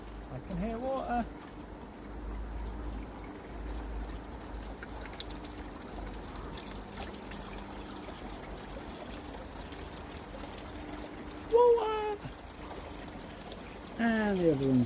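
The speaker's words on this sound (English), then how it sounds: "I can hear water." Water from a pump in a koi pond pours and trickles steadily at moderate distance, with brief bird chirps and a voice heard near the end.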